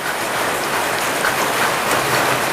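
Heavy rain falls outside, heard from indoors near a kitchen as a loud, dense, continuous hiss with no breaks and no voices.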